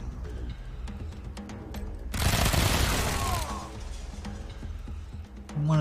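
A dense burst of rapid gunfire from an attack in the Wasteland 3 video game erupts for about a second over a quieter background of game sounds.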